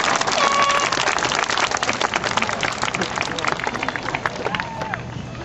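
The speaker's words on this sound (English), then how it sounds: "Let's give them a round of applause right now." Graduation ceremony audience clapping and cheering in a sustained, dense wash of applause with crowd noise, loud and steady throughout, a few whistles rising above the clapping.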